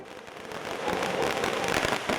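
Firecrackers burst at an outdoor birthday celebration for Prabhakaran, a dense crackling barrage that builds and stays loud and busy, with no speech.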